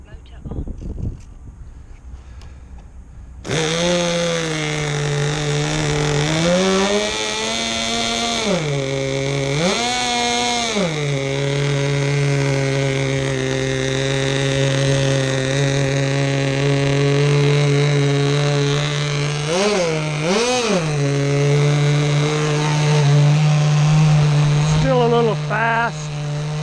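A Norvel model aircraft glow engine in a Herr Cloud Ranger starts up and runs loud and close, a buzzing high-pitched whine that rises and dips with throttle blips before settling into a sustained scream at high revs.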